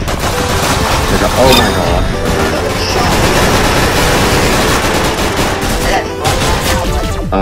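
Roblox Arsenal gunfire: loud, dense, nonstop shooting and impacts layered over game sound, with a player's short exclamation mixed in.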